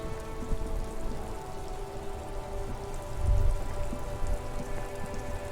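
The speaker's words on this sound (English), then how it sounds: "Slush and rain." Steady rain falling on surfaces in the video game Disco Elysium, a dense continuous hiss with scattered drops, even and moderately loud throughout with no talk.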